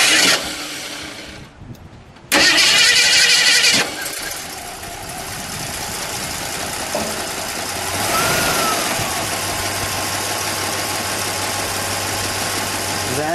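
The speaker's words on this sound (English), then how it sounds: "we'll listen to the exhaust note" 1968 AMC Rebel SST convertible engine cranking briefly, catching and firing up, then settling into a steady, smooth and fairly quiet idle heard up close.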